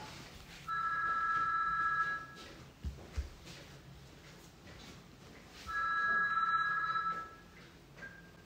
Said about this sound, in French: Le téléphone.